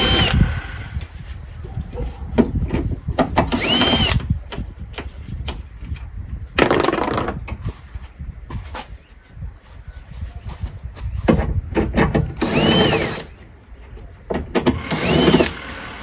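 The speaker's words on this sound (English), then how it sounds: "Then I'm gonna take the screws off." A power drill whirs in several short loud bursts as it backs out screws and 10mm bolts, with clunks and handling noise in between, close up.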